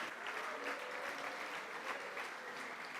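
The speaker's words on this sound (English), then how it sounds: "please give all those 10 amazing projects a big round of applause" A crowd at a hackathon closing ceremony applauds the demo projects, giving a steady, fairly distant wash of clapping that holds evenly throughout without any speech.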